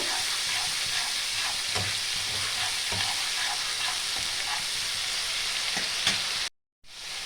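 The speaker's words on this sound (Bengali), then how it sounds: "একসঙ্গে ভালো করে আমি একটু মশলাটা কষিয়ে নেব।" Spice paste with tomato paste sizzles steadily in a pan for mustard pabda fish curry, with scattered spatula scrapes and stirs, close and continuous, then cut by a brief silence near the end.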